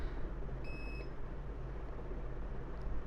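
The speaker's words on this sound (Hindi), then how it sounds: "2 पे हमें बीप मिल रहा है, बीप के साथ वैल्यू मिल रहा है" A digital multimeter gives a single short continuity beep while probing the circuit board of a Samsung Galaxy A30 phone, faint against a low background hiss.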